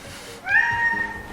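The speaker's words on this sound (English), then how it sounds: "Yes, that is a cat." A house cat gives a single clear, close meow, rising and drawn out for about a second against a quiet room.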